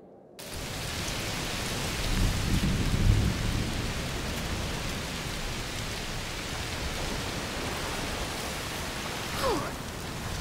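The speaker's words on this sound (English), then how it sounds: "Raining a lot?" Steady heavy rain pours throughout in the video game A Plague Tale: Requiem, with a low rumble of thunder rolling in partway through and a faint sweeping tone near the end.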